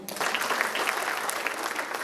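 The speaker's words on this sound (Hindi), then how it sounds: "तो महिला होने के लिए एक बार जोरदार तालियाँ।" Audience applause at an International Women's Day stage event, a steady dense clapping that holds evenly throughout without pause.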